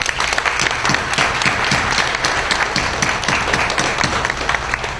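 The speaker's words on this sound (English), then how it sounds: "Let's give them a big round of applause" Sustained applause from a crowd at a sixth-grade moving-up ceremony, dense steady clapping filling the room for the whole stretch without a break.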